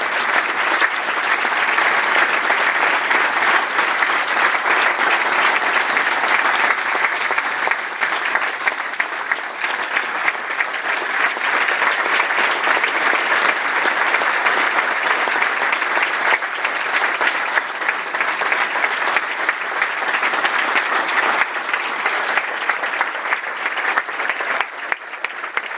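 A large audience at an event marking two years of a media law applauds in a long, steady, dense wash of clapping that stays loud and even throughout, with no talk over it.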